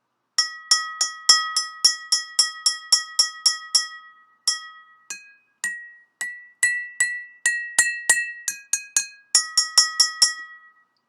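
Water-filled glassware tuned as a homemade xylophone, tapped in quick runs of bright, ringing clinks at several pitches, with short pauses between phrases; close and clear, no talking.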